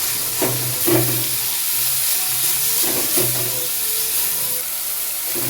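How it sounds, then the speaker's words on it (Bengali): Red amaranth leaves with poppy seeds and sugar fry in a pan, giving a steady close sizzle and hiss with a few soft scraping stirs, and no talking. "চিনি দেওয়ার পর আরও কিছুক্ষণ ভেজে নামিয়ে নিচ্ছি"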